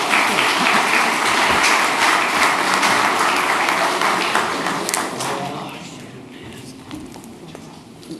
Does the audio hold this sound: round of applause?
yes